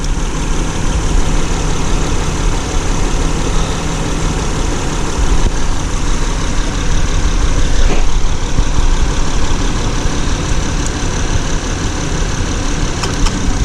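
Honda engine idling with its A/C compressor engaged after the relay is jumped, a loud, close, steady droning rumble with continuous mechanical whine throughout.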